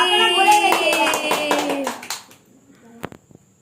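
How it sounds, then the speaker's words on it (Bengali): A small group claps along at a home birthday celebration, a busy patter of hands mixed with voices and singing for about two seconds, then trailing off into near silence with one sharp clap later. "হাততালি।"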